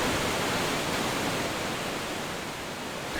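Loud, steady roar of a waterfall in the video game Gothic 2, a thick unbroken wash of rushing water that fades only slightly over a few seconds, with no talk.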